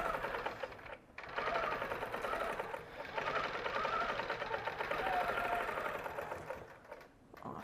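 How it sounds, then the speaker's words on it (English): A sewing machine stitching in the ditch along a quilt seam, running in a close, continuous rapid mechanical whir with brief pauses and slight changes in speed. "then I will stitch in the ditch on this side"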